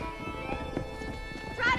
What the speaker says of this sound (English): Go, horse, go.